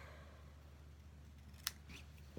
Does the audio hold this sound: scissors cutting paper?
yes